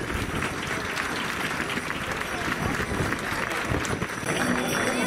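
Crowd applause greeting a decorated cart in a religious romería procession in Carrizal de Ingenio, dense continuous clapping with cheering voices mixed through it.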